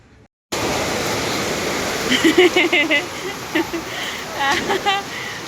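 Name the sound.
water running while a child bathes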